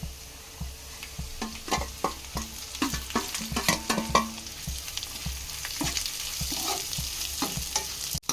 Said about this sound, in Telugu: ఇలా మునగాకుని ఆయిల్లో ఫ్రైలో నీట్గా మగ్గనివ్వండి